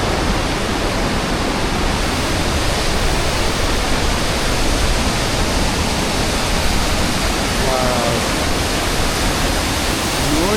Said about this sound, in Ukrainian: Поток води просто летить неймовірний.